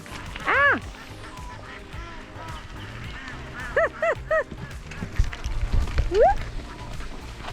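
Ducks on a rural road among rice paddies in Ninh Binh, Vietnam, let out short bursts of nasal quacks, a few close calls spread across the scene over low outdoor rustling and movement.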